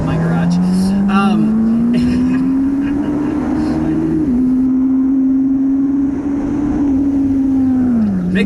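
Race motorcycles at an AFM club race at CSRA in April 2019 produce a loud, continuous engine drone whose pitch climbs steadily, then shifts and dips slightly, heard close to the track.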